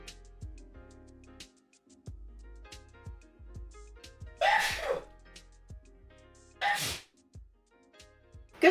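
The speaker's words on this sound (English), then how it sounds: "Good sneeze." Two sharp sneezes, one near the middle and another about two seconds later, burst out over quiet background chatter during a Neopets game showcase.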